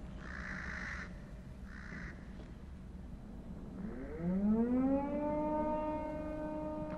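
A Silent Hill-style siren in a video game winds up from a low growl to a long rising wail, following a few harsh caws earlier; no one speaks.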